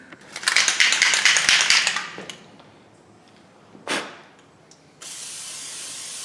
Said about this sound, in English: Like to give it a little toot of some fluid film there